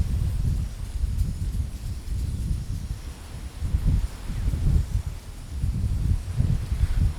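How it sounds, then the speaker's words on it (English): Strong wind on a beach buffets a Shure MV88+ microphone fitted with a furry windshield, making a continuous low rumbling roar that swells in gusts, with no talk. "obviously it's quite a strong wind, so it might actually blow it over"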